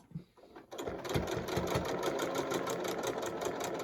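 A sewing machine stitches a face mask seam, starting after a short quiet moment and then running steadily with a fast, even mechanical chatter, close and clear with no talking over it.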